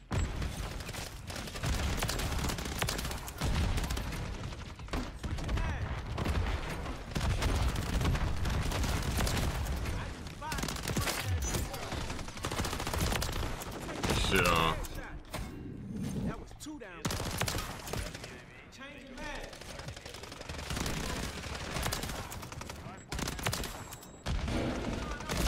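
Call of Duty: Modern Warfare 3 ranked multiplayer gunfire rattles almost nonstop in long automatic bursts, loud and dense, with brief gaps and booms mixed in.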